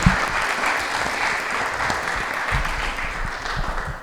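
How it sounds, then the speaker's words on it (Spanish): Sustained applause from an audience in a church or event hall, steady and fairly close, fading slightly toward the end, with no voices over it. "vamos a darles un fuerte aplauso"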